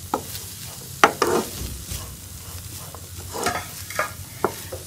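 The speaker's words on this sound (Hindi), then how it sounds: "इसको मसाले के साथ अच्छी तरह से मिक्स कर लेंगे।" A spatula stirs chicken and cubed boiled potato with spices for a kachori filling, giving several sharp knocks and scrapes against the pan over a soft background sizzle.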